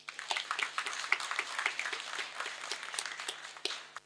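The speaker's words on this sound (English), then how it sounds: "So please give him a round of applause." Audience at a graduation ceremony gives a modest round of applause, scattered individual claps forming a light, steady patter with a few distinct louder hits.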